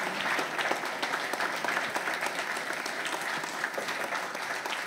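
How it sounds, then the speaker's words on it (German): Steady, hearty applause from a studio audience at a celebrity cooking show, dense clapping sustained evenly throughout with no voices over it. "Einen herzlichen Applaus."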